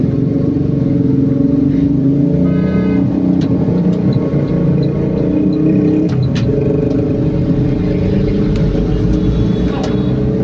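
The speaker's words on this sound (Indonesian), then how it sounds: "Saya harus lewat kanan ini kalau tidak ingin terjebak macet seperti ini" Night traffic jam on a busy business-district street in Manado: a dense, continuous roar of car and motorcycle engines close by, with horn-like tones and revving rising out of the steady din.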